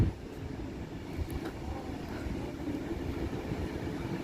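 Steady rumble of a passing Pendolino train at Wigan station platform, a continuous low roar of wheels and motors that holds throughout without any voices.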